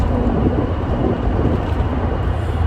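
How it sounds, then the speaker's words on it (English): Loud, dense road roar fills the cabin of a moving car on a rough road surface, a constant low rumbling wash with no breaks and no voices. "I hope this isn't loud AF, the road I'm driving on right now. It's so loud."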